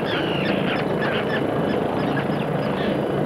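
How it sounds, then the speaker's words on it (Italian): A colony of terns rising into flight, calling loudly and harshly in protest at a helicopter's disturbance, a dense, continuous chorus of overlapping cries. "Tutti gli uccelli si alzano in volo protestando a gran voce per il disturbo subito."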